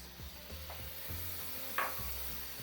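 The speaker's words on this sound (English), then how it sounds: "Now fry the tomatoes in the masala till all the tomatoes get nice and mushy" Tomatoes fry in a masala of cumin, coriander, turmeric and chilies for chicken mince cutlets. A steady, soft sizzle runs throughout, broken by rhythmic stirring scrapes in the pan and one brief sharper clink.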